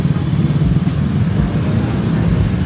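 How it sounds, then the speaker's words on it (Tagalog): Road traffic in Balulang, Cagayan de Oro, with cars and motorcycles passing nearby, a loud continuous low engine rumble and whoosh of vehicles going by. "Traffic dere sa kuan."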